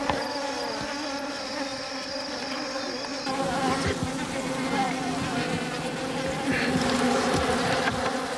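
A swarm of honeybees buzzes loudly and continuously at close range as a honey badger raids their hive, the dense droning hum shifting slightly in pitch and intensity throughout.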